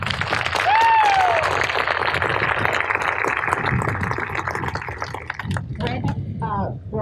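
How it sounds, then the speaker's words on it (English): Audience applause at an outdoor dedication ceremony for a bronze tiger statue, moderately loud clapping that thins toward the end, with a speaking voice over it. "Could you give him a round of applause?"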